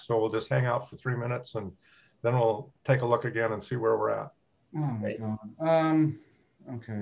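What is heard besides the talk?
None of the usual background noises is heard.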